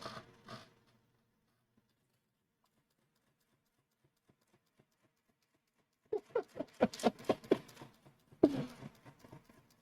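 An LGP-21 computer prints a line of spaces and triangles: after a long near-silent stretch, dense bursts of close mechanical clattering and tapping arrive in quick uneven runs, with a brief clatter at the very start.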